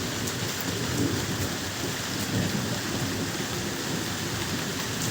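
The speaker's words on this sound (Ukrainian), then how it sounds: "Грім уже став менше гріміть, але гуркотить." Steady heavy rain from a storm hisses throughout, with a low rumble of thunder rolling underneath; no voices.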